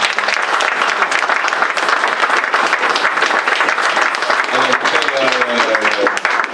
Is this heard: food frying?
no